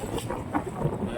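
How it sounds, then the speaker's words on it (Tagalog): Strong wind gusts over Manila Bay during a land reclamation project in Pasay, a steady rushing roar buffeting the microphone with no break across the short stretch. "lakas ng hangin"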